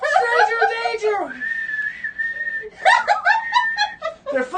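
A man whistles a long, shrill steady tone imitating a rape whistle, held for about a second and a half between bursts of excited talk and laughter.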